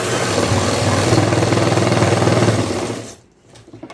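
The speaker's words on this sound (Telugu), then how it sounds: "ఈ విధంగా ఇట్లా వారకు అయితే కుట్టు లూజ్ కుట్టు అయితే వేసుకోండి" A sewing machine runs loudly and steadily for about three seconds while stitching a boys' school uniform shirt, its rapid needle chatter then stopping abruptly and leaving a quiet moment.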